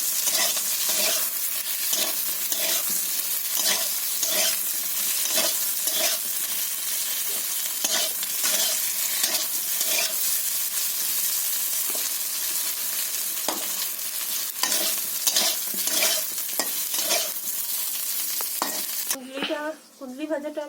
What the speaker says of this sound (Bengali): বেগুন ভাজাটা আমার হয়ে গেছে,